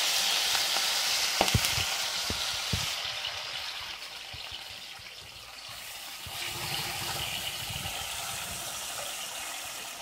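Chicken pieces dropped into hot oil in a deep kadai pan sizzle and fry steadily, with a few sharp clinks and stirring scrapes early on and the crackle swelling again near the end; no one speaks.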